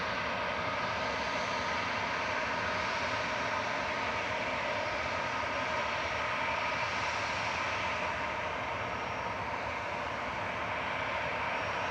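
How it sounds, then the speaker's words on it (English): A Loganair aircraft landing at Manchester Airport on arrival from Aberdeen gives off a constant, moderately faint engine drone passing overhead, an even wash of sound without distinct peaks or voices. "GSAJG just landing here from Aberdeen with flight 21 for Loganair. It's just about to land on top of us"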